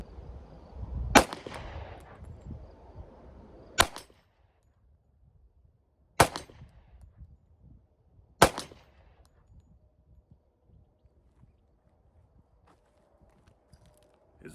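A Ruger Blackhawk revolver chambered in .45 ACP fires four sharp, loud reports, spaced a few seconds apart, at a shooting bench. Each shot is a sudden crack followed by a short decay, with quiet gaps between them.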